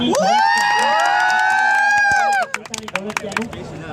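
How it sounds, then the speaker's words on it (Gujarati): A crowd of people cheers and whoops loudly for a couple of seconds for Asmita bhabhi, then breaks into scattered clapping. "અરે એકવાર તાળીઓ અસ્મિતા ભાભી માટે"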